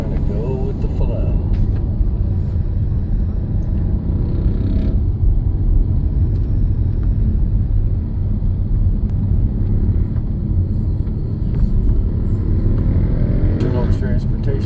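A car driving through busy street traffic in Roxas City, Capiz, Philippines, with a steady, close engine and road rumble running throughout at an even level.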